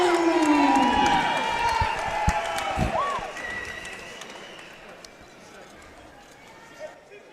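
A boxing arena crowd claps, cheers and whoops for a fighter being introduced, loud at first and fading over several seconds, with an announcer's voice over the noise.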